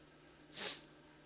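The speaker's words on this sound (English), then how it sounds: "sorry for all the fucking sniffles" One short nasal sniffle, close to the microphone and faint overall, rising and falling within about a quarter second against quiet room hiss.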